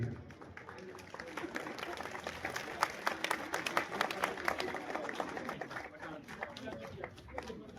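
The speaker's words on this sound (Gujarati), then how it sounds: "તાળીઓના ગડગડાટથી" A crowd at a school gathering applauds its teachers with dense, sustained clapping that holds steady throughout, fairly distant, with voices mixed in.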